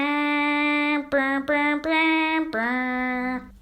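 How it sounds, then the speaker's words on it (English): School band of grade 6 and 7 students playing Pomp and Circumstance, the graduation march: sustained, bright brass-like chords moving through several held notes with short breaks between them, loud and close, with no talking. "what she taught us was how to play Pomp and Circumstance"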